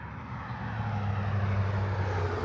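Durafly Brewster F2A Buffalo 920mm RC model plane flying, a steady electric motor and propeller drone heard outdoors, moderately close and unbroken.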